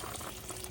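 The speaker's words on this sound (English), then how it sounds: "We will add about 2 cups of water" Water pours steadily into a soup pot on the stove, a continuous soft splashing rush with no voices over it.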